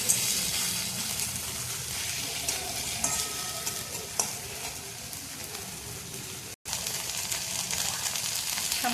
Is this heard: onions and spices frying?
yes